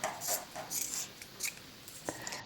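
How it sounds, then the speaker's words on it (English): Scissors snipping through cotton shirt fabric up close, a quick series of crisp rhythmic cuts with short pauses between, alone without talk. "So I cut and sew and cut and sew until I find a way out."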